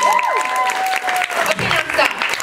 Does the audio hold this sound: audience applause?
yes